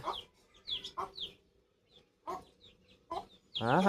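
Short bursts of clucking from nearby guinea fowl, a few separate calls with quiet gaps, ending in a louder harsh squawk.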